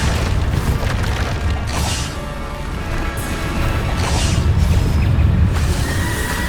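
Bombarda spell explosions booming repeatedly in the wizarding action game Hogwarts Legacy, heavy low rumbling blasts with crashing debris, loud and continuous through the whole stretch.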